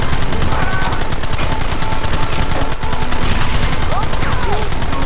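Rapid, dense gunfire from several weapons in Red Dead Redemption crackles continuously for about five seconds. The shots are loud and sustained, like a fusillade, with faint voices beneath them.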